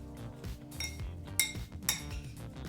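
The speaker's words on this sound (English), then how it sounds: "Let's give this one more stir." Butter-tossed air fryer potatoes are stirred in a bowl, with a utensil clinking and scraping against the bowl's side in a few quick, bright taps over soft, close, mushy stirring; no one speaks.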